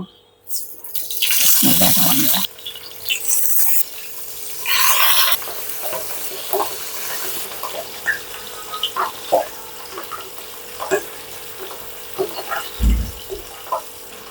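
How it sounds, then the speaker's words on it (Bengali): Pabda fish going into hot oil in a pan, with bursts of loud sizzling and splattering early on that settle into a quieter, steady fry with scattered pops and clinks. "তেল মোটামুটি গরম হলে আমি মাছগুলো ভেজে নেব"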